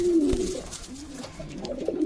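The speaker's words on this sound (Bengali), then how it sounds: "কবুতর দারুণ আছে" Several pigeons for sale, starling-quality birds, coo in low repeated rolling calls, close and fairly loud, with a steady murmur of cooing over the whole stretch and no talk.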